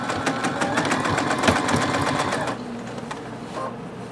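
A sewing machine stitches down the side of a beach tote bag, a loud rapid steady whir that runs for about two and a half seconds before dropping to a softer hum.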